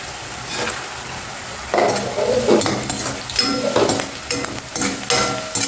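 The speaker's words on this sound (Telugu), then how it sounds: "ఇక వేగిపోయినాయి ఉల్లిపాయ ముక్కలు చూసారా" Onion pieces sizzle and fry with turmeric in a pan for a capsicum and potato curry, a steady crackle broken by several stirring scrapes and light clinks of a spoon against the pan.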